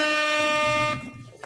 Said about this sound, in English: Air horn for the show Las Vegas.